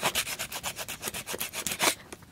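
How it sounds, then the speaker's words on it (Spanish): A PVC shoe sole is sanded by hand in a series of quick, rhythmic rasping strokes, about a dozen close scrapes back and forth before they stop. "Lijan bien a mano."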